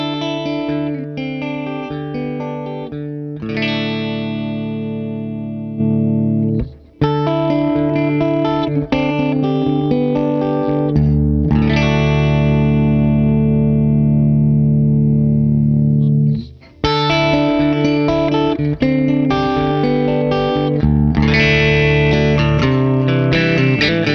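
An electric guitar through a DryBell Module 4 compressor pedal in its orange mode with the low end trimmed, bright sustained chords ringing out, broken by two short pauses. No voices.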